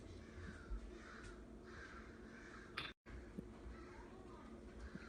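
Crows cawing at a distance, a few faint repeated caws scattered over a low steady background hum, with no talk over them.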